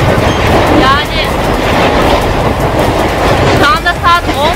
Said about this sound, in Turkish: Evet, şimdi trene de bindim.